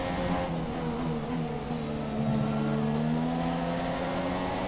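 Renault Formula 1 car engine in the F1 2017 game, Canada Grand Prix, a steady high whining drone with strong tonal harmonics and a small pitch dip and rise, moderately loud and unbroken, no talking.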